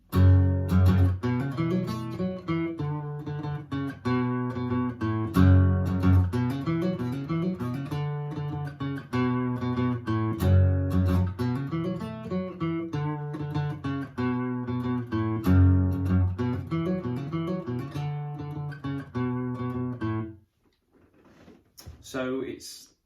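An electric guitar plays the main riff of a song, a loud, chugging, repeated pattern of punchy notes that cycles for about twenty seconds before it cuts off abruptly, leaving a few faint scrapes.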